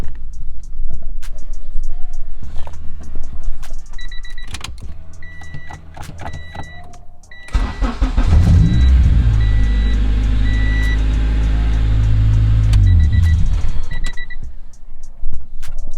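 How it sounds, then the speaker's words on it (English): A car engine on a vehicle fitted with a hidden kill switch cranks and catches, then settles into a steady, loud, close idle hum with warning chimes beeping intermittently above it. "I'm going to have Carter go ahead and start the car."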